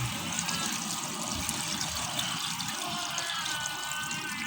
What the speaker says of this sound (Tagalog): So, next natin ilalagay dito ay ang water.